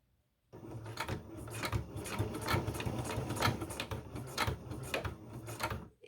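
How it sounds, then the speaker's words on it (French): A sewing machine stitches a seam on a fabric sandwich pouch with a backstitch. It gives a close, loud, rapid mechanical chatter that runs in short bursts with brief pauses as it goes forward and back. "Je fais un point d'arrêt, c'est-à-dire comme pour le début, 3 points en avant, 3 points en arrière, 3 points en avant."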